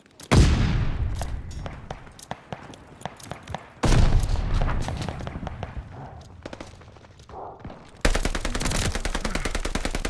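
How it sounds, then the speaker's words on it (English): A stun grenade goes off in the Call of Duty Vanguard video game, with sharp booms near the start and middle among scattered gunshots. A dense, loud stretch of rapid automatic fire follows at the end. "Tossing stun grenade."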